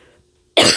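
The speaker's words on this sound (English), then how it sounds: "I hate coughing into the mic, but there's no way I can cover it." A single sharp, loud cough sounds close into a microphone, bursting suddenly after a brief near-silent pause.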